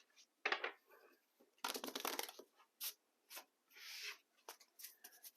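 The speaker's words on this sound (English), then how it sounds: "Let's do some shuffling." A tarot card deck is shuffled up close in several bursts: riffling rustles, scraping slides and short card slaps separated by brief pauses, with no voices.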